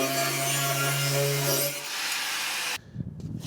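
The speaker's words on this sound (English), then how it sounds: "part of our body panel on the side right there is in our way. We're gonna trim it off." A power tool cuts into a truck side body panel on a Mazda B2000, a loud steady whine and grinding rasp that holds for nearly three seconds, then abruptly stops, followed by faint clatter.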